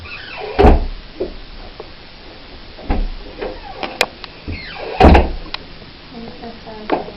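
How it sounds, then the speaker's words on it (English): A stiff interior door in a house at 30 East Drive is shoved hard, giving several heavy thuds and rattles a couple of seconds apart, with voices talking around the impacts. "you have to put so much force in that door there"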